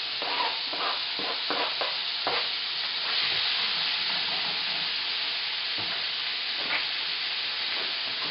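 Red onions and garlic sizzle in melted butter that is starting to brown. A steady, close hiss runs throughout, with soft scrapes and taps of stirring scattered across it.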